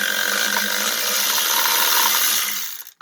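A tool whirs steadily as a ratchet with a deep socket works to loosen a nut, a sustained mechanical buzz that continues nearly unbroken before cutting off abruptly near the end, followed by a couple of brief clicks.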